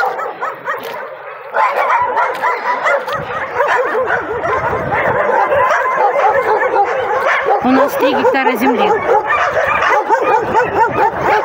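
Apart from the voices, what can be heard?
dogs barking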